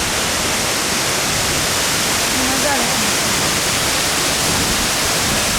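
A loud, constant roar of the Masare waterfall near Alleghe in the Dolomites, heard from right beneath it, broadband and unbroken, close by and overwhelming everything else.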